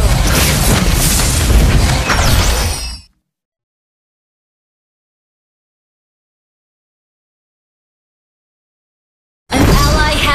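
A turret is destroyed in the Mobile Legends video game: a loud, dense burst of booming effects lasts about three seconds, then falls silent, and a further burst of noise starts near the end.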